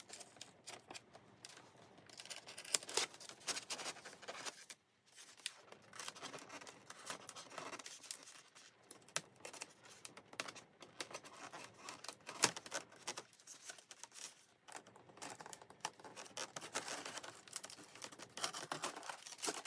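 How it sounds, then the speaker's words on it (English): Packaging is pulled off the wings of an Arrows Hobby Marlin RC EDF jet, producing close, busy crackles, rustles and sharp plastic crinkles in irregular bursts with brief pauses between. "So we'll get this unwrapped first."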